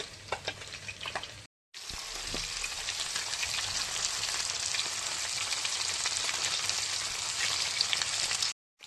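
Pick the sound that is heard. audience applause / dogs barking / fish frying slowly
fish frying slowly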